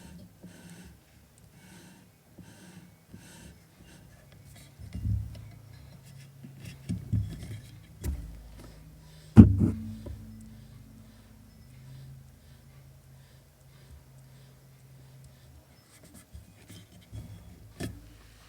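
Joints of a RODE DS2 desk microphone stand being moved right beside a microphone. Sparse, soft creaks and muffled clunks are spread through a very quiet stretch, with a few louder knocks midway and no talking.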